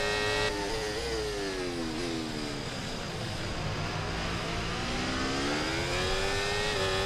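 Formula 1 race car engines in the F1 24 video game at the Bahrain Grand Prix: several high-pitched engines whining and rising and falling in pitch as they shift, loud and continuous, with no talking.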